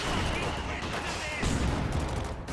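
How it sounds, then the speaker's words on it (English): Company of Heroes 2 infantry support gun fire and battlefield gunfire: crackling shots and a heavier thump mid-way, loud and close over constant noise. "maybe a bit of ISG fire, I think I heard. Yep, there's an infantry support gun from CuteBunnies"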